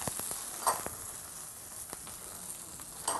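Garlic, scallion and chili sizzle steadily in hot oil in a flat frying pan, a continuous crackling hiss with a few sharper pops and spatula scrapes.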